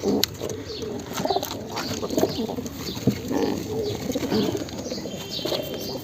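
Pigeons coo in a dense, close chorus, soft throaty calls overlapping continuously among light rustling and occasional wing movements.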